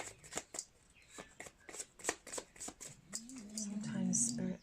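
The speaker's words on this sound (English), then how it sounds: "I'm just going to give these a shuffle." A deck of tarot cards is shuffled close by in quick papery riffles and soft taps. A low voice hums or speaks faintly underneath.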